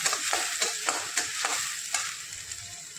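Onion sautéing in a pan for masala rice, a bright continuous sizzle with rhythmic scraping strokes of a spoon every fraction of a second, close and fairly loud.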